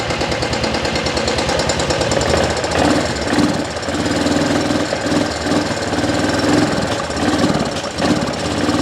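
A small engine runs after its carburetor was repaired, a loud, close, rapid buzzing chug that keeps a steady, slightly uneven rhythm throughout with no talk over it.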